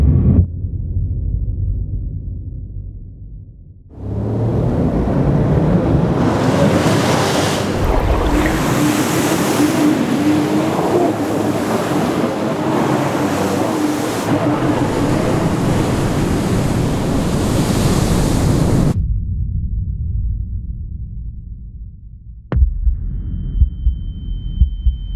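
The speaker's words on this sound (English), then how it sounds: "I want to ride these waves" Big ocean surf breaks in a long, loud roaring wash that builds suddenly, holds for about fifteen seconds, then cuts off, with low rumbling water before and after and no talk.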